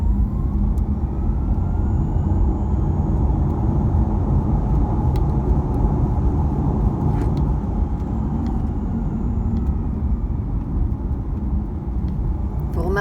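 A Porsche Taycan Turbo S electric car drives with a steady broadband road and wind rush and a faint high synthetic whine, continuous and moderately loud throughout.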